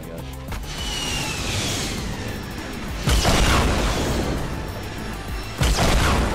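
Frag grenade explosions in the Fortnite battle royale video game: two sharp, loud blasts several seconds apart, each bursting out of a steady background rumble and whoosh, with no talk.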